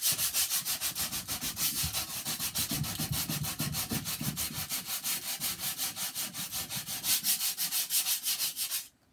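Wooden drawers are rubbed by hand with coarse 60-grit sandpaper, a loud close scratchy rasp repeating in quick, even back-and-forth strokes for several seconds before stopping.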